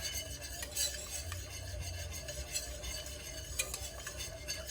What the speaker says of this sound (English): So I'm just gonna start whisking it away, just whisking it.